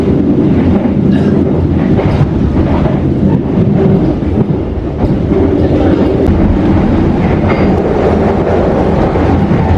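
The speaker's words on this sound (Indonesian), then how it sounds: "kereta api Tegal Bahari diberangkatkan dari stasiun Arjawinangun" An Indonesian Tegal Bahari train moves off from Arjawinangun station in heavy rain, a steady loud rumble with rhythmic rail clatter and wind buffeting the microphone, with no voices.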